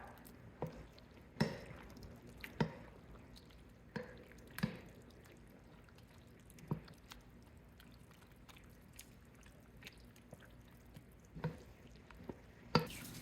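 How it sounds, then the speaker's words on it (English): Wet, sticky squelches and soft clicks of a spoon stirring a thick chicken and gravy mixture, irregular and close, with quiet pauses between strokes. "Okay, we're gonna mix this up."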